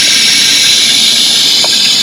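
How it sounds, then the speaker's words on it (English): An aerosol can sprays in a steady, loud, close hiss onto the filter area of a Gehl 7800, unbroken for about two seconds. "Trying to spray it now real good."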